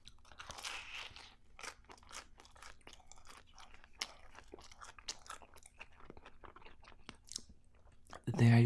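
Crunchy bites and wet chewing of a four-cheese frozen pizza, close and detailed, steady mouth sounds with occasional sharper crunches and a brief louder knock at the end, with talking under it.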